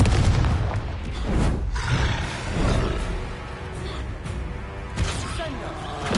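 A Confringo blasting spell goes off in a Harry Potter video game as a loud booming explosion with a rumbling roar, followed by continuous crackling blast noise that swells again near the end.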